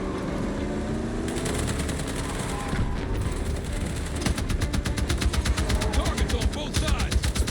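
Battlefield 6 campaign combat with dense automatic gunfire, rapid bursts crackling close and loud over an ongoing battle din, the firing growing heavier and more continuous in the second half, with voices calling out beneath it.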